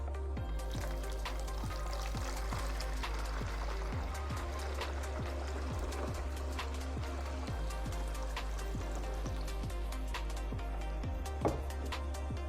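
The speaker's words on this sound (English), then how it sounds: "we're going to fill up the reservoir at the bottom" Filtered water, about 1.2 liters, pours steadily into the bottom reservoir of a Frigidaire EFIC189 silver countertop ice maker, a continuous close trickle lasting throughout with no talking.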